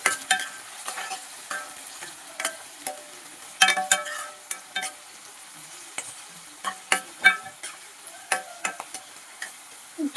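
Onions and peas stir-fried in a pan, with close spatula scrapes and stirring knocks in an irregular rhythm over a light, steady sizzle; no voices.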